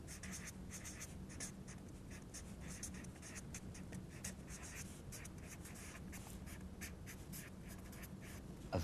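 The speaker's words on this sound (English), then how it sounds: "Let me write that down." Pen or marker writing by hand on a surface during a maths tutorial, a continuous close scratching and tapping of strokes throughout with no talk.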